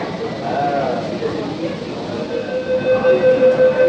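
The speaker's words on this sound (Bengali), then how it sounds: "ভারতবর্ষের প্রথম গঙ্গা নদীর নিচ থেকে ট্রেন, মেট্রো" A steady low rumble of a Kolkata metro train running through the tunnel under the Ganges River fills the clip, with faint squealing tones rising toward the end and muffled voices underneath.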